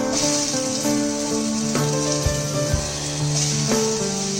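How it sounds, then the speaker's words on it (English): Onions and tomatoes frying in a pan make a steady sizzle throughout, with a few soft clinks and a hum over the bubbling, close and even in loudness. "What we're going to do is add 150 grams of tomatoes to it."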